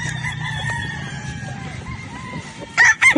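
A Sweater Boston cross game fowl rooster crows out loud near the end, following a stretch of quieter background farm noise and faint bird sounds.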